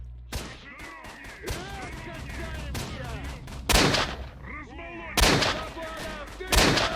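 Pistol shots crack out in STALKER: Shadow of Chernobyl, several sharp, loud reports spaced irregularly amid other in-game gunfire and clatter, with someone speaking briefly between them.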